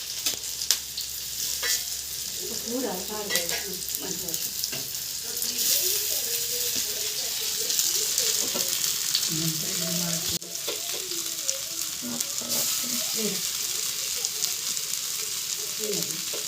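Fish frying on a tawa, with a continuous close sizzle and occasional stirring or scraping, while voices talk faintly in the background.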